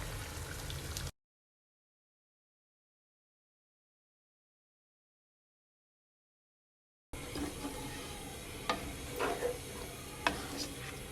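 Chicken frying in a karahi with a yogurt-and-spice mix poured in and stirred, close sizzling with clinks and scrapes of a spoon, broken by a long stretch of total silence.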